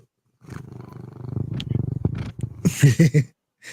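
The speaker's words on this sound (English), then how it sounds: "That's the sound you want to hear from a cat when they crawl up in your lap" A cat purrs and rumbles close up with rough, throaty pulses, building to louder growl-like bursts near the end.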